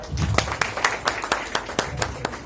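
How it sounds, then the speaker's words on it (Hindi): Scattered claps from an award ceremony audience, irregular sharp hits rather than a dense wash, fairly close and moderate in level over low room murmur. "जोरदार तालियां।"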